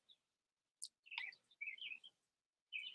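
Several separate bird chirps and short tweets, bright and high-pitched, spread across a few seconds with quiet gaps in between, fairly faint and heard alone without talk.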